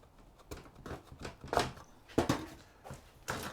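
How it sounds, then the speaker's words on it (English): Compost pressed and tamped down in a seed tray before sowing celeriac, a run of soft, close, dull pats and scuffs in an uneven rhythm with no talking. "So I'll just tamp that down."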